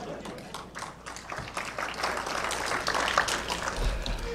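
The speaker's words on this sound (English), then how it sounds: "Yep, clap if you wish." Audience applause breaks out at a political forum talk, a dense rolling clatter of many hands that holds steady and swells slightly before tapering, with a low rumble underneath.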